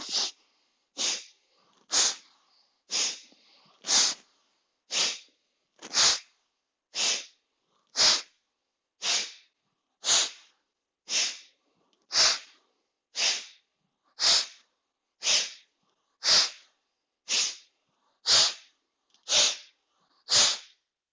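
About twenty sharp, forceful breaths blown out through the nose during a yoga breathing exercise, one roughly every second in a steady rhythm, close and loud with no talking.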